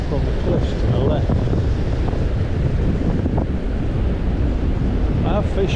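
Strong sea wind on an open beach, partly sheltered by cliffs, buffets the microphone in a steady, loud roar, with surf washing underneath for the whole stretch.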